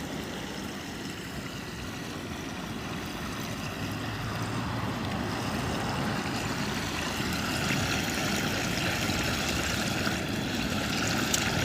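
Hot oil splashes and sizzles in an outdoor turkey deep fryer, overfilled with oil, giving a steady, loud, broadband bubbling roar that builds slightly and holds constant with no talking.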